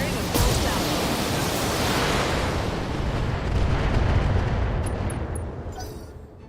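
A mech in BattleTech unleashes a full weapons salvo, a dense, sustained roar of overlapping cannon and missile fire that stays loud throughout, with a sharp blast at the start before slowly fading at the end.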